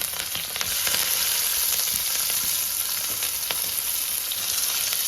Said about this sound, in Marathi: त्याच्यामध्ये आता मिरची टाकूया कढीपत्ता मग कांदा